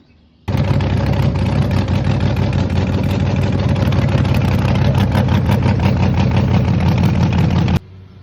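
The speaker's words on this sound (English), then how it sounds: "I was messing around and pushed the button and the thing started" An engine that sat freezing through the winter starts and runs loud and steady with a rapid, even rumble close by, then cuts off abruptly near the end.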